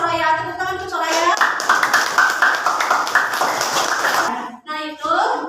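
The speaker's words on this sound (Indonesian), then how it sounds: "Tepuk tangan untuk Soraya." A classroom of students bursts into quick, busy clapping for a few seconds, bright and close, with a teacher's voice talking just before and after the applause.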